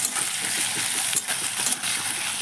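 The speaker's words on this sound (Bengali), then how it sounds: "আমি বড় বড় সাইজের 3টে পেঁয়াজ এখন সুন্দর করে ভেজে বেরেস্তা করে নেব।" Three large onions frying in oil in a pan for crisp fried onion, a steady dense sizzle with faint crackling throughout, close and even in level, with no talk over it.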